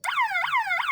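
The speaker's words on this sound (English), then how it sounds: "I'm going to turn the key on, turn the machine on, you'll hear the alarm." Cage weight system alarm on a Nifty Lift 170 trailer-mounted access platform, sounding at switch-on: loud repeating electronic warbling tone sweeping downward in pitch about every 0.4 seconds, close and alone.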